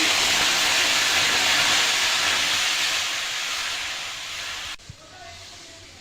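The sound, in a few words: water poured into a wok and heated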